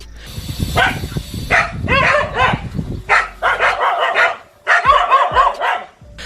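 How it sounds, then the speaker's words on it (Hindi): A gang of dogs barks and yips while chasing a monitor lizard through a lake, with bursts of overlapping loud barks, splashing and brief pauses. "अब यहाँ इन कुत्तों की गैंग ने इस झील में बैठे अकेले मॉनिटर लिजार्ड को घेर लिया, जिसके बाद ये पानी के अंदर जाकर इसका पीछा करने लगे।"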